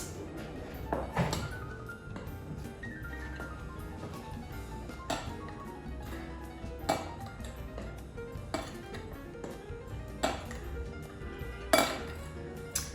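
A utensil mixes dry muffin ingredients for vegan chocolate zucchini muffins in a bowl, giving soft scraping with scattered clinks and thunks against the bowl, fairly quiet and close.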